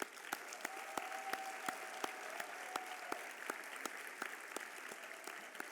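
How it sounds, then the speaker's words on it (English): Sparse applause from an audience at a nursing school pinning ceremony, thanking family members: faint, distant clapping with sharp individual claps standing out over a thin wash of hands. "round of applause for them,"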